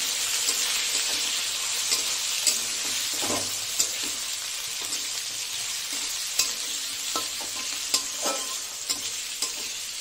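Vegetables fry in a pan after tempering with spices, a steady close sizzle with occasional stirring clicks and scrapes running throughout.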